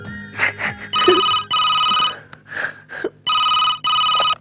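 A telephone rings in repeated electronic bursts, loud and close, with short breathy vocal sounds in the gaps between rings.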